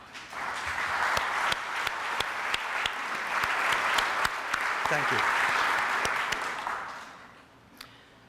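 Sustained applause from an audience standing to honor members of community organizations at a civic association's end-of-season annual meeting, steady clapping throughout before fading near the end, with a brief spoken thank-you.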